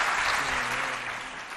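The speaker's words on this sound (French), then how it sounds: "On applaudit, s'il vous plaît." Students applaud at a school competition between two schools in Mao, a dense, steady clapping that fills the room, loud and continuous throughout.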